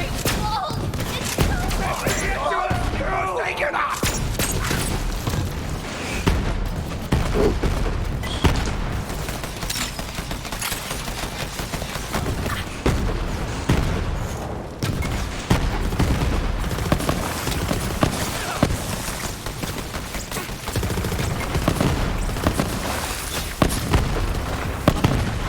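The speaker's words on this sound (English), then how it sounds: "Who is shooting with this enormous amount of damage? Somebody with a launcher." Dense Borderlands 3 combat with launcher blasts and rapid gunfire, booms and thuds layered continuously over busy game noise and music, loud and close throughout, with voices talking over the action.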